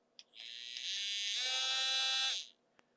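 A three-speed router fitted with a dual flute bit winds up into a high, steady electric whine for about two seconds, then cuts off, with a faint click before and after.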